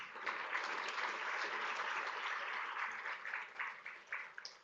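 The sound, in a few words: audience applause at a summit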